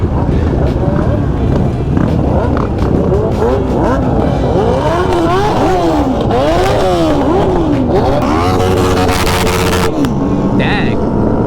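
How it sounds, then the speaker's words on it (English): A Suzuki Hayabusa motorcycle accelerates hard past a season-opener gathering. Its engine climbs through several quick rising gear pulls, loud and close, and the whine sweeps up and down as it passes. People can be heard talking and cheering over it. "that Hayabusa was nasty"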